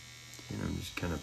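A tattoo machine shades a betta fish design on practice skin, giving a steady low electric buzz throughout with brief louder swells partway through.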